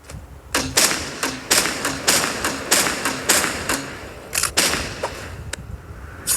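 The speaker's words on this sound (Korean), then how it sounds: "이게 폭탄 발사기입니다" A bomb launcher firing a rapid, irregular series of about a dozen sharp, close pops and thumps, each with a short ringing tail, some spaced out and some in quick bursts.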